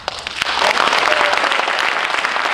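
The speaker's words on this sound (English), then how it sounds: "Hold your applause." A room of students at a student leadership event applauds, steady dense clapping that rises quickly and holds loud and close throughout, with no talk over it.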